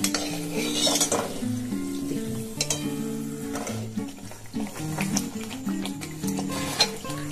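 Dhaka-style paratha frying in oil in a pan, a steady sizzle running throughout with stirring and spatula clatter, and a tonal musical background over it.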